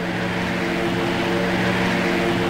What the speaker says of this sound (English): Why do the planes always come at night on this server?